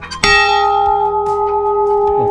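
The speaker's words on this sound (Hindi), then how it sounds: "तो हम बजाते हैं पहले घंटी" A metal temple bell at a gate of Bayana Fort is struck once, loudly and close, then rings on with a long, steady sustained tone.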